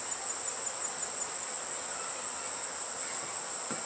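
Honeybees fly around a crowded yard of many hives, a steady close buzzing hum that holds evenly throughout, with a bright high whine layered over it and no voices.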